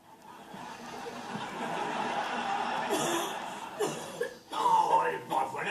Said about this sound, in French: voilà une toux qui me plaît. Une toux rauque et sèche.